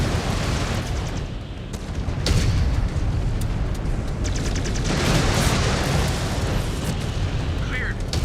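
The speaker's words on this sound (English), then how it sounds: "Incoming missile." Missile explosions in the mech combat game Mechwarrior 5: Clans rumble in a dense, continuous roar with repeated deep booms and bursts, and a voice speaks over the din.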